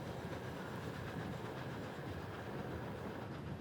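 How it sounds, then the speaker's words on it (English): Train running on rails in Uzbekistan, a continuous broadband rumble and rattle heard from on board, steady and fairly faint with no voices. "The train skirts Turkmenistan, and the Amu Darya now flows across the border into the Karakum Desert"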